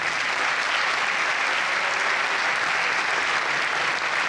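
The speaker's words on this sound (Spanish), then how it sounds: "Venga, ese aplauso. Fuerte para ellos." Sustained, even applause from an audience in a theatre for participants of a hill-climb car event, a constant bright wash of many hands clapping with no voices over it.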